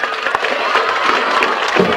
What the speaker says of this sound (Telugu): చప్పట్లు పెట్టండి గట్టిగా